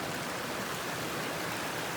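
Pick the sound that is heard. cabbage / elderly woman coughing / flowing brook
flowing brook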